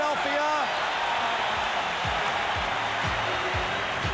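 A large basketball arena crowd at a 1981 NBA Eastern Conference Finals Game 7, Celtics against Philadelphia, roars and applauds steadily throughout, with a commentator talking over it.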